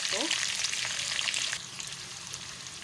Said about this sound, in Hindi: बस अब हमने 1 से थोड़े कम जो ऑयल लिया है, हाफ कटोरी से थोड़े से ज़्यादा, और ये पूरी प्याज डाल देंगे